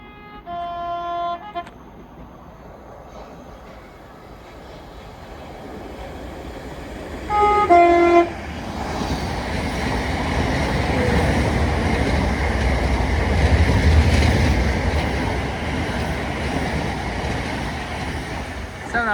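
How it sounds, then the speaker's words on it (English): A Thameslink train on the Brighton Main Line at South Croydon, working from Coulsdon to Peterborough, passes close by as a loud, sustained rumble after a couple of short horn-like tones, growing steadily and holding for over ten seconds. "Then we're going to have a Thameslink service passing by, working a service from Coulsdon to Peterborough."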